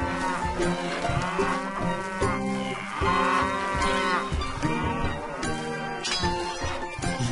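Cattle lowing over and over in the medieval castle-building strategy game Stronghold, several drawn-out moos overlapping continuously at close range with steady loudness for the whole stretch.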